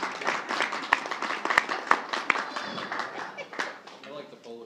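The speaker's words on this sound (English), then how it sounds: "I'm going to applaud that too." At a school board meeting, a small group claps briefly and unevenly, moderately loud at first and thinning out, mixed with voices talking and a few sharp knocks.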